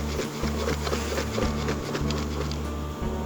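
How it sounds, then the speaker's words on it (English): Angry honey bees buzz in a dense, continuous swarm close by, with irregular tapping and rustling mixed through the drone. "300 very angry bees."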